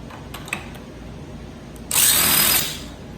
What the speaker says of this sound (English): Now we can completely remove this nut with a 19mm socket.